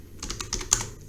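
Quick, light clicking of keys on a computer keyboard, close and fairly quiet, in a short burst of several keystrokes with no talking.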